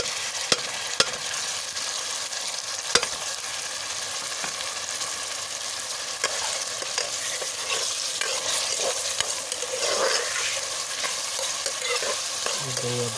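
Chopped tomatoes and chillies sizzle steadily in a hot pan for a bhindi (okra) dish while a utensil stirs and scrapes occasionally, a continuous loud frying hiss close by.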